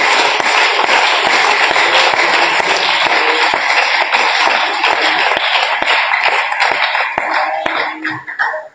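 A church congregation claps loudly and steadily for several seconds at an evening service, a dense wash of many hands that thins and scatters toward the end.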